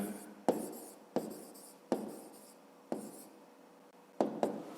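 A pen writes a math answer by hand on paper, with close, steady scratching strokes broken by several distinct taps where the pen lifts and touches down again.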